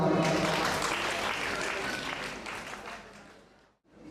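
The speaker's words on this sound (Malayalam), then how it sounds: "ഒരിക്കൽ കൂടി മുഴുവൻ വിദ്യാർത്ഥികൾക്ക് കൈയടിക്കുന്ന പ്രോത്സാഹനം നൽകേണ്ടതാണ്" Audience at a temple festival cultural meeting in Pampady, Kottayam, applauding students with steady, dense clapping that slowly fades and stops, then picks up briefly again.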